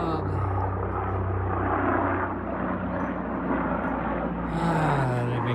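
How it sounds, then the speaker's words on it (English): Loud, steady drone of a helicopter passing overhead, its engine roar filling the whole stretch with a slight rise and fall in pitch. "here comes a nice loud helicopter."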